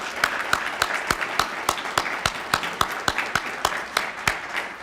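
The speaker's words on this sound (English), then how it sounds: "How about a round of applause," Applause for three young ladies at a STRIVE luncheon, with the audience clapping steadily. Sharp claps sound close and are spaced regularly, and the clapping continues evenly throughout, with no talking.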